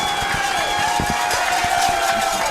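Bulldog Nation fans at a football game roar and cheer loudly, a dense, noisy crowd swell with scattered claps and shouts over a short stretch.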